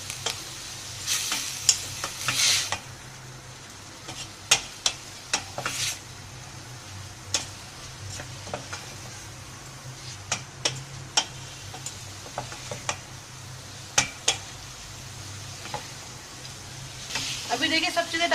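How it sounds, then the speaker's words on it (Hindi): Chicken keema kachori filling is stir-fried in a pan with lemon juice, salt and black pepper, giving a soft steady sizzle broken by sharp scrapes and taps of a utensil against the pan. "सब चीज़ें डालने के बाद हमने अच्छी तरीके से इसकी 1 मिनट तक भुनाई करी है"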